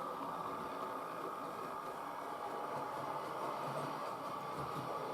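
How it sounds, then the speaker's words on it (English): A quiet, steady mechanical hum and rumble runs throughout from a model diesel multiple unit train without DCC sound running continuously, with a faint rattling texture. "she does have a sort of DMU sound about her."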